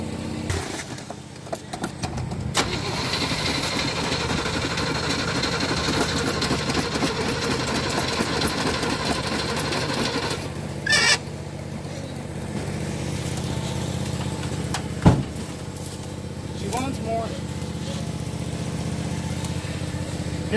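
A 454 big block Chevy engine in a square body tow truck cranking and trying to start, with rough rumbling turnover, sputtering bursts and brief catches over about twenty seconds, close by, with some metallic clatter.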